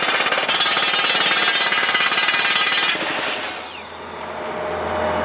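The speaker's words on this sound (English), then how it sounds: "just a 4-meter-long drill that's chewing through replacement bits" A loud, steady rattling 4-meter-long drill grinds hard through steel for about three seconds, then stops into a whining, falling tone and lower rumble.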